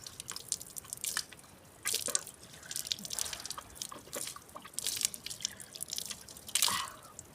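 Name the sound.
water flowing in a hillside irrigation channel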